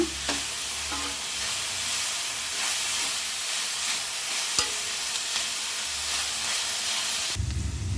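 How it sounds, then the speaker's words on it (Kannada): Mixed vegetables frying in a hot pan for vegetable fried rice, a loud continuous sizzle and hiss with occasional stirring scrapes, no talking. "ಎಲ್ಲ ನೀಟಾಗಿ ಫ್ರೈ ಮಾಡೋಣ."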